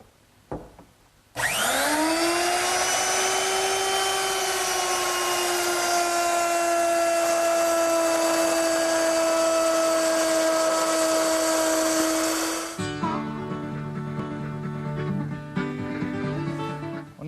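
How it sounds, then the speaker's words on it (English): A router plows a 3/8 inch deep groove in wood for a kitchen dresser, a loud steady high whine that holds for about eleven seconds before winding down into clatter and handling noise. "Now plow all the grooves 3/8 of an inch deep."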